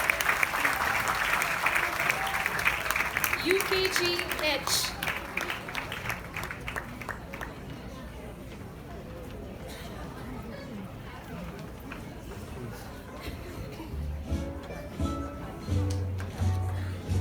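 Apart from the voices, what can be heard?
audience applause for graduating kindergarten class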